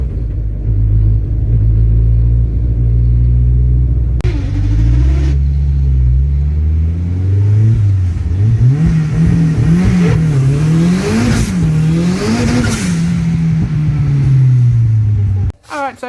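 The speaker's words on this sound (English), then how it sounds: "trying to work out what's going on with this clutch. It was making some horrible noises." Car engine on a 3RZ turbo build with a damaged twin-plate clutch, revving up and down in loud rumbling surges with a rough, wavering drone, close and continuous before cutting out abruptly.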